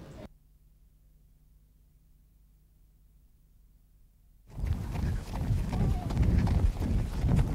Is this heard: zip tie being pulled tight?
no